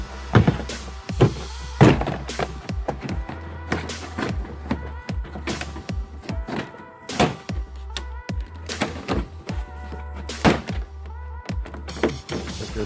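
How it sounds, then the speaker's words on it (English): A trim removal tool pries a 2013 Chevrolet Silverado door panel away, popping its clips loose: a close run of sharp snaps, thunks and knocks at an uneven pace over a steady low hum, with no talking. "Now we're going to grab our trim removal tool and just stick it on the side. Just go ahead and pop the whole door loose."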